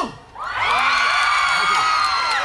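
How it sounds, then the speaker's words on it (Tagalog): A festival crowd at the Singkamas Festival in San Marcelino, Zambales, breaks into loud cheering and shouting with children's voices mixed in. The sustained roar of whoops and yells swells quickly after a brief quiet moment and stays strong throughout. "magpalakpakan na may kasabay na hiyawan"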